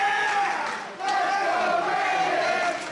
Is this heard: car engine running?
no